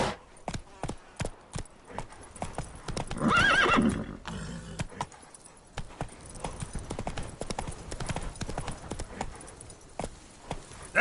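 Roach the horse gallops with rapid clip-clop hoofbeats throughout and gives one loud neigh early on, in The Witcher 3 video game, with game music underneath.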